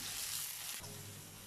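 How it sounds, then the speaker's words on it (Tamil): Chopped onions sauté in hot oil, giving a steady, faint hiss of sizzling that carries on evenly with one small stir-like bump partway through. "வெங்காயம் நல்லா வதங்கிச்சிங்க,"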